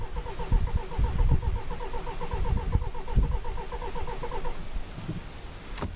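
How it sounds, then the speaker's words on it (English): A Land Rover Discovery Sport diesel engine cranks without catching, with a rapid rhythmic starter whirr and low thumps for about four and a half seconds before stopping. "let the motor tick over, crank, crank, crank, crank, crank without starting"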